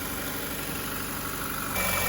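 A car engine idles steadily right after being jump-started with a NOCO Boost GB40 portable jump starter, a continuous close low rumble that swells slightly louder near the end, with no talking.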